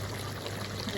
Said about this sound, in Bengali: এখন আমি এদের মধ্যে পরিমাণ মতো পানি দিয়ে দিব